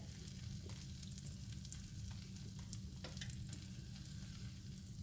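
An omelet sizzles steadily in a very hot pan just after being flipped, a low continuous frying hiss with a few faint scrapes, fairly quiet and with no talking.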